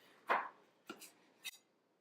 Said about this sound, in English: And you're going to do the same thing with your pepper and your mushroom. Just get yourself some thin slices of your vegetables.